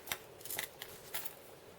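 Small pliers snip aluminium wire for a crepe paper flower stem, giving a few quiet, sharp clicks and snaps close by in a short sequence.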